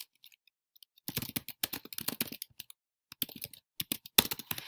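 Close, crisp keyboard typing in quick bursts of clicks, starting after a short quiet pause and continuing with brief breaks.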